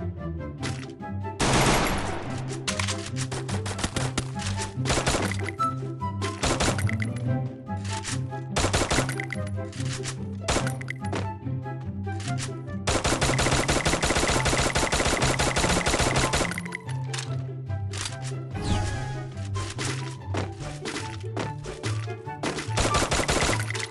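XM8 rifle firing in a video game, with repeated short bursts of rapid automatic shots and one long sustained stream of fire, loud and close over a steady backdrop.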